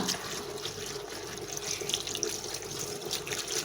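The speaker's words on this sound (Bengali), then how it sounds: "তো এই যে আমার পুঁই শাকগুলো ধোয়া হয়ে গেল" Tap water running over Malabar spinach being washed in a kitchen, a steady hissing stream with soft splashes and drips, fairly close and alone.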